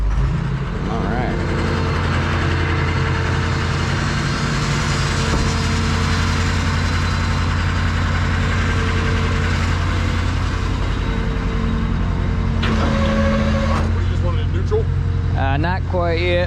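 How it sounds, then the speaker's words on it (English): A tow truck's engine runs at high idle with the PTO engaged, a steady low droning hum that holds loud and even throughout, with a few brief mechanical tones and whines near the end. "This thing fired up. PTO's running. Kick on high idle."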